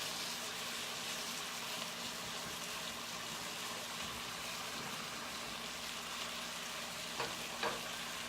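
Creamy herb chicken frying in a pan, giving a soft, steady sizzle with faint stirring clicks near the end, quiet and continuous with no talking.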